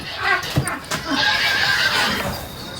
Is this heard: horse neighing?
yes